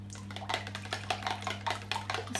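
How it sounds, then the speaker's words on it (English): Egg and milk whisked together in a bowl for orange scones, a quick run of light rhythmic clinks and taps against the bowl over a low steady hum, with no talk. "whisk around just to incorporate the egg and the milk together"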